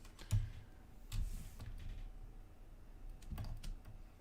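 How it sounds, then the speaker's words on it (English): Cheap, very clicky computer keyboard typed on in short bursts of sharp clicks with pauses between, fairly quiet and close, with no talking. "it's simply the click on my keyboard. It's a very clicky keyboard. Very cheap keyboard."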